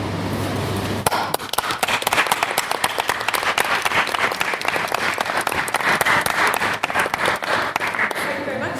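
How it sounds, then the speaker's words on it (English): A debating-chamber audience claps for Andy's maiden speech in a sustained, dense round of applause that starts abruptly after a brief pause and stays steady and close, with voices faintly mixed in. "can we have another round of applause for Andy for his maiden speech"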